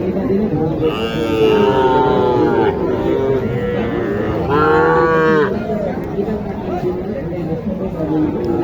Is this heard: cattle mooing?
yes